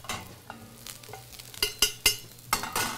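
A crushed garlic clove and a sprig of thyme sizzling in hot oil alongside parsnips in a pan, a steady crackling fry punctuated by several sharp spitting pops toward the end.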